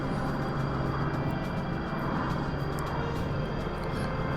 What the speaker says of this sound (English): Landing is always interesting with these jet engines as well.